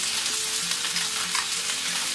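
Garlic frying in a pan until golden, a dense continuous hiss and crackle of hot oil up close, with faint rhythmic stirring underneath and no voices.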